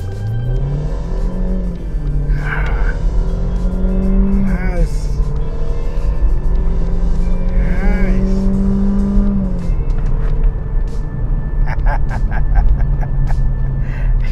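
A Mercedes-Benz CLA 180 with a DSG gearbox accelerating hard through several gears, engine note rising and dropping with each shift, heard from inside the cabin with a loud steady rumble and voices talking over it.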